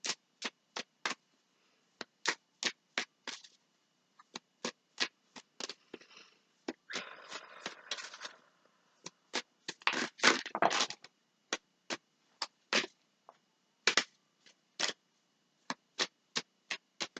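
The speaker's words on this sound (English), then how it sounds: "Just gonna give it a few more shuffles" Tarot cards being shuffled by hand: crisp, sharp riffling snaps in quick bursts with short pauses, a longer scraping rustle in the middle, close and clear with no talking.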